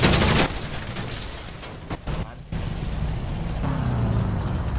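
Gunfire in a GTA roleplay game: a loud opening burst followed by a dense, rumbling stretch with sporadic sharp reports and a renewed volley near the end, all without speech.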